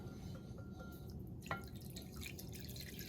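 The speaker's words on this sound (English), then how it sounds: "And then we're going to add some warm water to that." Warm water trickles and drips into a bowl of beignet dough mix, faint and close against a quiet background hum, with a brief splash midway.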